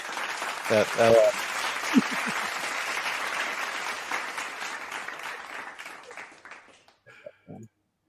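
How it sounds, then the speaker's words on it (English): Applause from a crowd, a steady wash of clapping that fades gradually over several seconds, with a few louder hits and brief vocal sounds near the start and end. "Wait, I'm giving myself applause."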